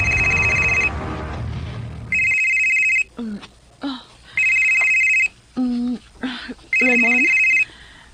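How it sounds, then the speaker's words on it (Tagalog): A cellphone rings in a drama scene with repeated loud electronic ring bursts, short and regular, and voices speak and call out between the rings. "ang imong cellphone, may bagting"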